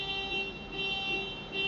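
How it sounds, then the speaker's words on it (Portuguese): An alarm rings with a steady, multi-tone electronic beeping that pulses evenly and sounds fairly faint in a quiet room. "Este alarme não tinha mais hora nenhuma para tocar."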